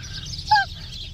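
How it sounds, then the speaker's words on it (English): Outdoor birds give a single brief, honking call midway, clear over a steady low background hum. "Oh, listen to the pretty birds."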